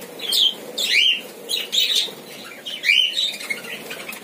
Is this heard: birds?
yes